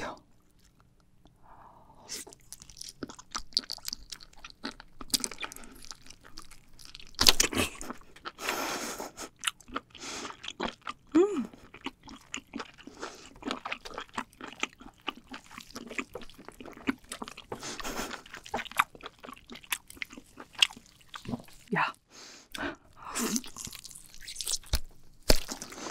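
Close-up chewing of a giant king octopus, with wet, crunchy bites and squelchy mastication repeating irregularly over a long stretch, occasional liquid sounds and brief quiet gaps.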